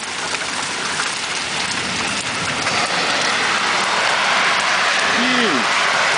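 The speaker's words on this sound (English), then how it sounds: "Just getting done with a hailstorm." Hail falls steadily across a broad wash of dense, hissing impacts during a Lakewood, Colorado hailstorm, with stones bigger than golf balls. A brief faint voice-like sound appears near the end.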